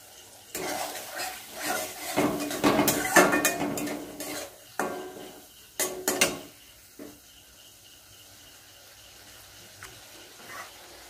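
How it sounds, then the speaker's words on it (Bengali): Spice-rinse water pours into a pan of masala for chickpeas with paneer, followed by a spoon scraping and stirring against the metal, with clattering bursts early that fade to quiet, occasional scrapes. "মশলা ধোয়া জল দিচ্ছি এর ভিতরে দিয়ে কিছুক্ষণ নাড়াচাড়া করে মশলাটাকে কষিয়ে নেব"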